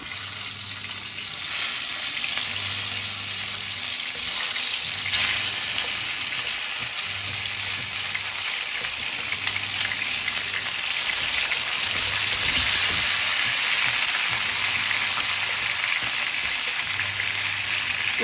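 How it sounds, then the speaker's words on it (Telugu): Stuffed capsicums frying in a little hot oil in a wide pan over low heat, a steady dense sizzle that continues evenly throughout with a faint low hum underneath. "ఒక వెడల్పాటి ప్యాన్లో కొంచెం నూనె వేసి వేడి చేయాలి వేడెక్కింది ఇప్పుడు సిమ్లో పెట్టుకుని ఈ కాయలను ఒక్కొక్కటి పెట్టుకోవాలి"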